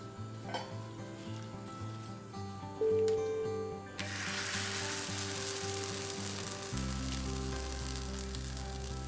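A rice pathiri (rice-flour flatbread) goes onto an oiled hot pan: light clinks of utensils first, then a loud, steady sizzle that suddenly starts and keeps crackling close by to the end.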